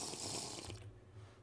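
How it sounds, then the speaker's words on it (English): A splashy gush of water as a character drinks in TerraFirmaPunk, a modded Minecraft game, heard alone for under a second before fading out. "Have a drink of water."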